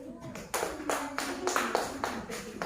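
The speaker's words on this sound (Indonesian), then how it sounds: "Ya, tepuk tangan nomor 2." A classroom's rhythmic clapping pattern number two during a lesson on smart machines, a series of about six loud, evenly spaced group claps in quick succession.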